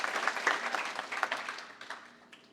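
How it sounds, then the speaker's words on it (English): An audience at a summit claps, a dense burst of applause that builds briefly and then tapers off toward the end, moderately loud with no talking. "let's give another big round of applause to all the autism parents out there"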